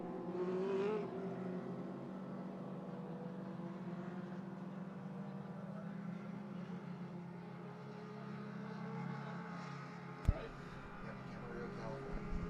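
Steady roar of dwarf race car engines idling and revving together at Cottage Grove Speedway before a trophy dash, a continuous rumbling drone with a brief sharp knock near the end.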